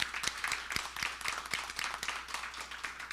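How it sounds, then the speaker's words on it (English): Scattered, fairly quiet applause from a small audience at a school board meeting, with irregular individual claps spread across a few seconds. "So let's give Mr. Smith a round of applause in his absence."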